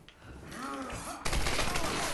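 Video-game gunfire in Tomb Raider starts after a short muffled stretch as an abrupt, loud burst of shots that continues densely to the end.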